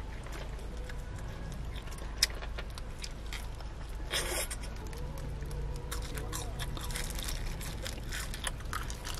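Spicy chicken being eaten inside a self-built Starex camper van on the East Sea coast, with close chewing and crunching over a steady low background hum.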